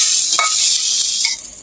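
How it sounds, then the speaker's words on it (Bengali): A sour taro-leaf and tamarind dish being stirred in a hot pan, a steady loud sizzle with a couple of brief scraping strokes of the spoon and no voices. "অনবরত এটা ঘেটে যেতে হবে, নাহলে লেগে ধরবে"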